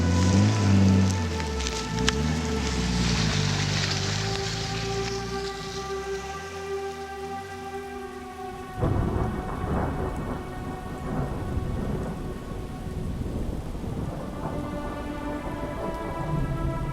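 Steady heavy rain with rolling thunder, loud and continuous throughout, the rumble swelling near the start and again partway through, with no voices.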